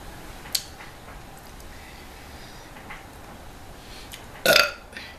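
A woman burps after finishing a pizza mukbang. Two short burps stand out in a quiet room, a small one early and a louder, longer one near the end, with no talking.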